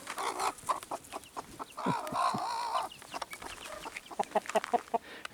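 Backyard chickens being fattened cluck and squawk in a run, with bursts of close clucking and one longer drawn-out call in the middle, no voices heard.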